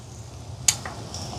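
Roasted ground masala paste stirred into tomato gravy for Chettinad chicken curry, heard as a soft low simmer with one sharp spoon scrape and a couple of fainter stirring strokes.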